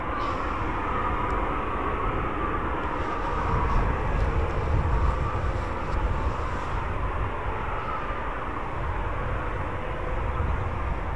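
RAF Eurofighter Typhoon FGR4 jets of 41 Squadron rolling out at RAF Coningsby, a steady broadband jet roar holding at constant loudness throughout, with no voices.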